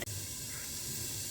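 Jackfruit frying in a pan gives a continuous, close hiss and sizzle, steady and fairly quiet, with a brief click at the start and no voices.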